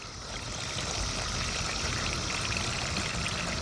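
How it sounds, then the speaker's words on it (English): Water-soluble fish emulsion fertilizer pours into a vertical garden tower, a steady continuous splashing, trickling rush that holds at an even level throughout. "A good soaking right in there."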